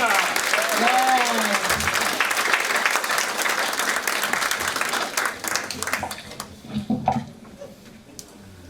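Audience at a Veteran's Day breakfast applauds a veteran, dense, sustained clapping that thins out and fades near the end, with a voice briefly heard over it.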